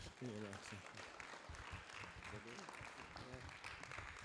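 Applause from a convention breakfast audience, continuous clapping blended with voices talking over it throughout.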